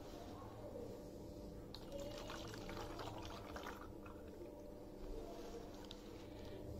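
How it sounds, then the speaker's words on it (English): Soft, quiet trickle of colored water being poured into a rain gauge, with gentle splashy gurgling that swells midway and fades, over low background noise. "Just fill the rain gauge till 0 mark on the scale with colored water."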